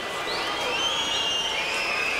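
Arena crowd roars at an IBF/WBA light heavyweight unification boxing bout between Henry Maske and Virgil Hill, a sustained broad cheer with whistles and shouts rising and falling, fairly loud and continuous.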